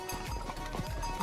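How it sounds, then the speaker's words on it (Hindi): A horse climbs a hill close by, its hooves clopping in an uneven rhythm at fairly low level, with faint voices and ambient noise around it. "भैया किट्टो का ये देखिए घोड़ा हमारे मुंह के पास आ रहा है"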